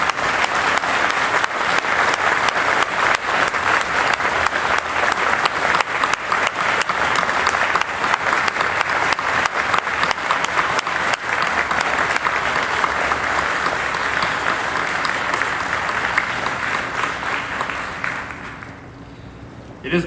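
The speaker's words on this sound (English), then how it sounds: "please stand and give a round of applause to the Hilton family" An audience stands and applauds the Hilton family at the opening of a wartime museum, with dense, steady clapping that continues for about eighteen seconds before fading out near the end.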